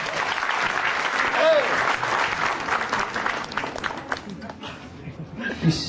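A comedy club audience applauds and cheers as an Indonesian stand-up comic is called to the stage, a dense steady burst of clapping that tapers off near the end as voices start up.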